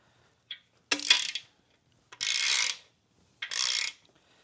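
A ratchet wrench tightens bolts on a 300 inline-six engine being rebuilt, with a few short, sharp bursts of close metallic ratcheting separated by quiet gaps and no talking.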